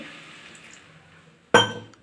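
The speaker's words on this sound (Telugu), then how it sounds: "టమాటా వేసుకున్నాక కొంచెం వాటర్ అండి, 1 టీ గ్లాస్ వాటర్ అండి" Water from a tea glass splashes into a pan of tomato and flat bean curry with potato, a sudden loud pour near the end after a quiet, faintly simmering stretch.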